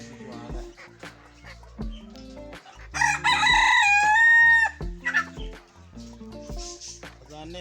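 Roosters crow loudly and close by with long, wavering calls, the strongest burst in the middle, amid scattered clucking from a flock of young chickens on a small backyard farm; speech-like voices are faintly mixed in.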